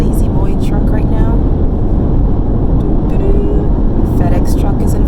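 A huge Lazy Boy furniture truck rolls past on the road, a loud, continuous rumble of engine and tyre noise heard from inside a moving vehicle, with someone talking over it.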